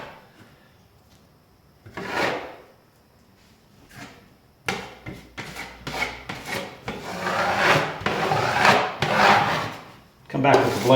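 A drywall knife blade is pulled across joint compound over tape in separate scraping strokes close up, short at first and then longer and denser.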